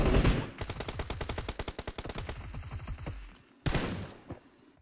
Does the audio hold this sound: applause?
no